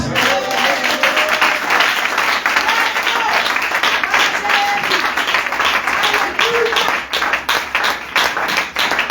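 A church congregation applauding and cheering, heard as loud, dense, continuous clapping from a crowd that keeps up a steady rhythm throughout, with voices mixed in.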